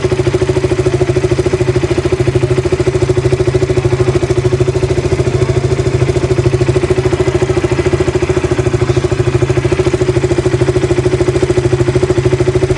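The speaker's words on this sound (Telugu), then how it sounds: "మీరు ఒకసారి ఇంజన్ బీట్ వినండి, మీకే తెలుస్తుంది" A KTM RC 200 motorcycle with about 40,000 km on it idles steadily, a close, even, throbbing engine beat running without a break.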